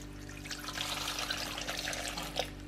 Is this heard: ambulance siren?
no